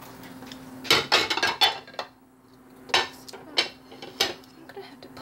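Dishes clink and clatter as they are handled at a sink, in two bursts of several sharp ceramic and metal knocks separated by a quieter pause, close by.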